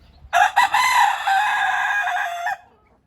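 A young Fayoumi rooster gives one loud, close crow, with a couple of short choppy notes opening into a sustained harsh call that cuts off cleanly.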